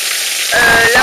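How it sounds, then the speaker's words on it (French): Heavy hail and rain pour down during a violent storm in the Var, a dense hissing, sizzling wash that swells louder halfway through and keeps going without a break. "L'orage ne se calme pas, il tombe toujours autant de grêle et de pluie"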